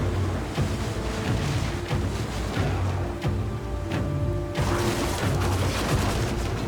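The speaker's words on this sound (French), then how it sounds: "On nous tire dessus!" Gunfire rattles through a battle in Assassin's Creed Origins, repeated bursts layered over a dense wash of rumbling, surf-like noise and game music that carries on throughout.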